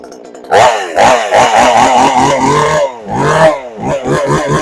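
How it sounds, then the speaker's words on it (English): A Pinkway 63cc two-stroke chainsaw with a 20-inch bar runs loud and close, its engine rasping and revving in rapid bursts and pulses with a short dip midway, alone and with no talk. "I just love the way that two-stroke sound"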